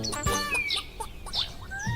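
Chickens clucking and chirping in a farmyard, used as a sound effect in a children's bedtime story, with repeated close calls and a steady murmur of fowl underneath.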